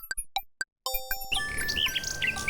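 A mechanical nightingale in the King's Quest video game chirps in a few sharp separate tweets, then breaks into a continuous warbling song over a steady background hum.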